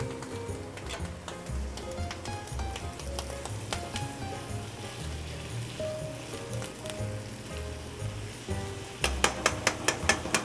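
Stock sizzling and reducing in a hot pan, a steady, close crackle and bubbling hiss that continues throughout, with a run of sharper clinks or pops near the end.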